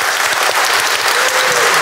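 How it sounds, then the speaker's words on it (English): A huge round of applause from the audience at a live in-conversation event, dense and steady clapping sustained loud throughout without pause. "a huge round of applause for Jess Phillips"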